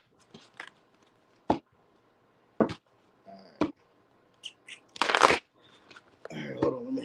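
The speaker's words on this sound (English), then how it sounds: "let me get a quick shuffle in real quick" A deck of tarot cards shuffled by hand in short, scattered bursts of riffling and slapping, with quiet gaps between them, a louder rustling flurry near the end, and some faint voice sounds in between.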